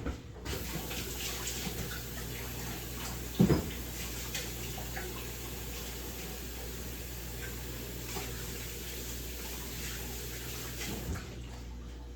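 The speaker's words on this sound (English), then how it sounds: "So let me wash my hands." Hands being washed under a running kitchen tap: a steady, moderately close stream of water with small splashes and one brief louder knock partway through, no voices.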